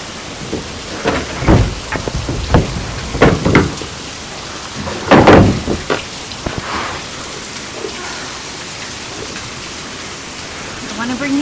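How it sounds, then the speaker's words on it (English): Hail starting to fall outdoors at a forest home as a storm arrives: scattered sharp, loud impacts in the first half, then a steady rain-like hiss. "it's starting to hail."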